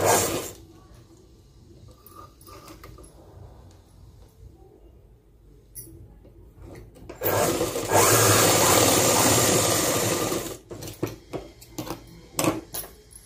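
A sewing machine runs steadily while stitching the shoulder seam of a school uniform bodice in a tailoring setting. The whir is loud from about 7 to 10.5 seconds, surrounded by quieter handling sounds and brief bursts.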